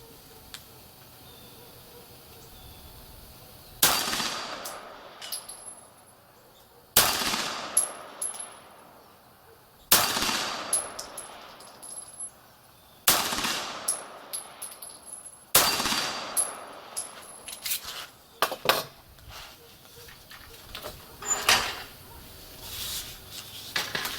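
Single shots from a Beretta 92G Elite Compact pistol at a shooting range, five sharp loud cracks spaced a few seconds apart, followed by a denser run of lighter metallic clinks and taps.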